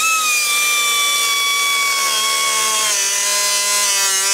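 A tool cuts a small slit in a fiberglass part during cooling system repair on a Citroën C6, producing a loud, steady, close whine whose pitch slowly drops as the cut proceeds.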